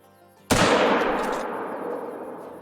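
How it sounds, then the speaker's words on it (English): A single rifle shot aimed at a wild boar in the hunting video game Call of the Wild cracks loud and close, then rolls away in a long, fading echo with no speech. "The shot looked good."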